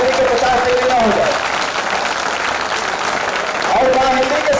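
A Hindi poetry-recital audience claps continuously in a loud, full wash of applause, while a voice speaks over it briefly at the start and again near the end.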